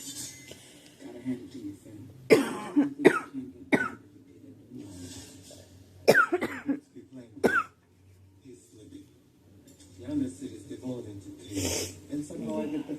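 A girl coughs in several sharp bursts and harsh fits spread across the stretch, fairly close, with quieter breathing and low background noise between them.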